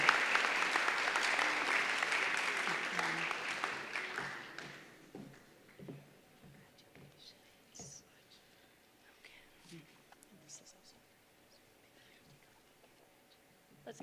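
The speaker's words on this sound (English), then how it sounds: "give him a big round of applause" Applause at a school convocation ceremony for a Governor General's Award recipient fills the first four seconds loudly, then fades to scattered claps, taps and murmuring from the crowd.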